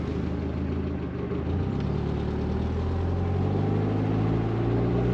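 A 1992 Mazda Miata drives with its top down, its engine giving a steady low hum that builds slightly toward the end, close and continuous with no talking.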